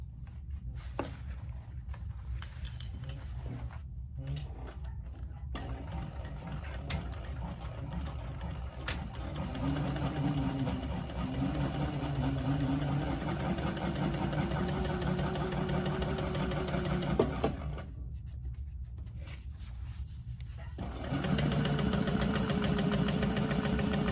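An industrial sewing machine stitching down the sides of a handbag, running in a steady mechanical whir with short pauses and restarts, close up and with no talking.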